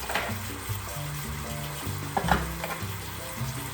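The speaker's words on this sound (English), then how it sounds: "We're going to throw some butter in there." Butter sizzling in a hot pan with apple pieces, a steady close frying crackle with a brief louder flare near the middle and tonal background music beneath.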